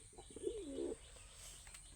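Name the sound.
pigeons cooing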